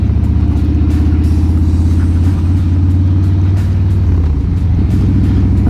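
A car engine rumbles steadily close behind a Harley-Davidson motorcycle on a rainy night, a constant low drone with a slight shift in pitch near the end, heard while riding.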